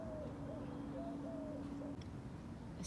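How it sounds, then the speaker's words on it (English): Soft cooing bird calls, pigeon or dove-like, repeat outdoors through a steady background hiss, moderately distant and faint, with no talking. "I hear birds out there"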